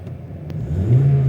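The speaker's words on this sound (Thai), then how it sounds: "เดี๋ยวเป็นเร่งเครื่องให้คุณลูกค้าฟังนิดนึงแล้วกัน" Engine of a 2022 Toyota Altis 1.6G car revs up from a steady idle to a rising, louder hum, close and continuous, with no talking.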